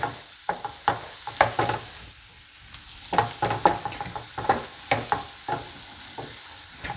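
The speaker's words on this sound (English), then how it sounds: "Soften up the celery a little bit." Shallot and celery sauté in butter, a gentle sizzle broken by a series of sharp stirring clicks and scrapes against the pan, close and with no talking.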